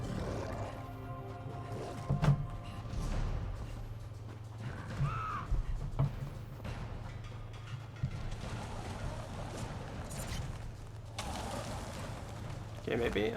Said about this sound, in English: There goes the bird.